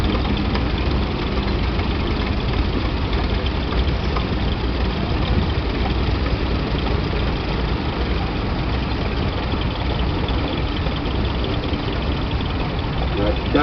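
A Lanz Bulldog tractor engine runs at a steady, continuous rumble, fairly loud and unchanging throughout.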